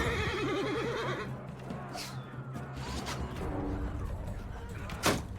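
A horse in the video game Mount & Blade II: Bannerlord gives a loud, wavering neigh at the start, followed by clashing, hoofbeats and battle noise, with a brief sharp crash near the end.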